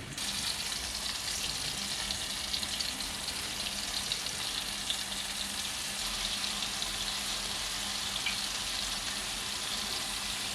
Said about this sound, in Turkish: Şimdi balıklarımızı döküyoruz.